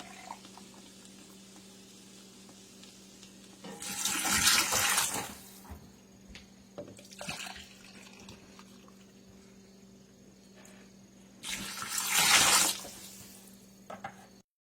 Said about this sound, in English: So I'm going to start adding my water.